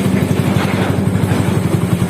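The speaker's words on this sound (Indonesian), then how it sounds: "dari suara langsamnya mesin sudah terasa ringan" A rebuilt Honda CB motorcycle engine with a 68 mm piston and 66 mm stroke idles steadily up close, its low pulsing exhaust beat holding a fast, even rhythm throughout.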